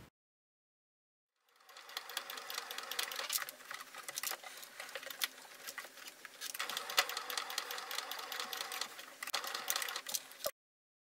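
A sewing machine runs a steady stitching line around the edge of fabric for a handmade plush lion, starting after a short silence and whirring continuously for about nine seconds before stopping abruptly.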